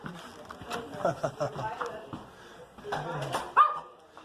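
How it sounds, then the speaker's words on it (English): A small dog yaps and barks in short bursts at a doorway of a senior community home, close by and mixed with people talking. "It's a cute little dog."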